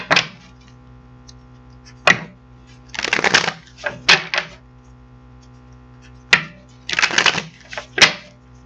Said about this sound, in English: So we're going to get this other deck out, shuffle it up